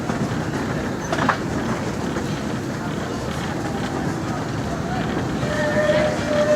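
Disneyland Railroad train rolling steadily along its track, a continuous rumbling rail noise throughout with a brief squeal near the end, while a recorded announcer's voice speaks over it.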